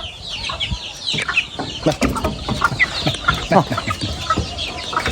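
A rooster at a bird-keeping gathering in Namangan's Turakurgan gives repeated sharp calls and clucks amid other fowl, close and busy, with faint voices in the background.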